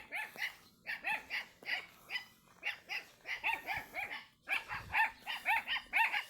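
Dogs, including puppies, bark in quick rhythmic bursts outdoors, the yaps loud and close and repeating steadily for several seconds with brief gaps between volleys.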